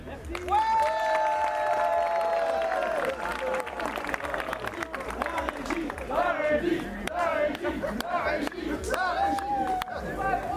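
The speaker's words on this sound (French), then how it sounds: "La régie, voilà, on peut les applaudir" Audience applause at the opening ceremony of a fan festival, scattered clapping mixed with crowd chatter and a voice speaking over it.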